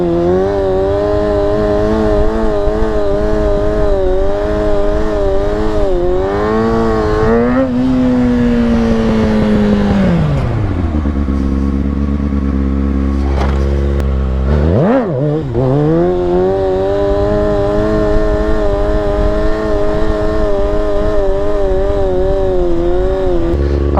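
Kawasaki 636 sport motorcycle engine revving hard and steadily in first and second gear during stunt practice, a loud close continuous howl with pitch rising and dropping sharply around gear changes and throttle cuts, no talking.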